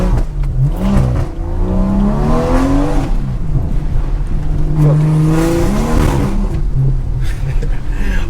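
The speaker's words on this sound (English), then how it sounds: "The tires are just spinning like crazy." A straight-piped BMW 340i revving hard on a slippery road, engine notes rising and falling in repeated surges as the tires spin, loud and close, with a voice talking over it.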